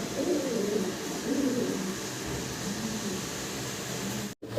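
Fancy pigeons with imported leg rings coo softly in low, repeated rolling calls over a steady hum of background noise.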